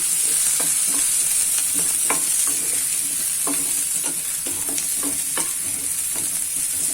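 Leafy greens frying in a pan give a steady close sizzle throughout, broken by repeated scraping and tapping as a utensil stirs them.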